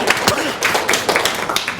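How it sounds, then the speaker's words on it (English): A church congregation claps in a burst of scattered, uneven hand claps at moderate loudness, with murmured voices underneath. "Biggest clap I've got all morning for her husband"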